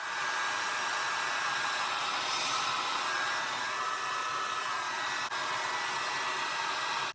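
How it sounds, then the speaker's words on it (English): A hair dryer blow-drying a deep wave wig, giving a continuous loud, even whooshing hum up close that holds steady for several seconds. "You're supposed to blow dry it."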